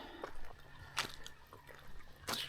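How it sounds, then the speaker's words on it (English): Spring water trickling into a full tub, heard as faint, quiet drips and small splashes arriving at irregular intervals over a soft background. "It's trickling water, but the tub's full."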